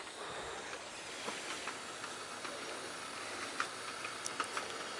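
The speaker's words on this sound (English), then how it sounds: "You hear the steam coming out of the thermostat housing bleeder valve" Steady, faint steam hiss escapes an engine's thermostat housing bleeder valve, with a few light ticks and pops scattered through it.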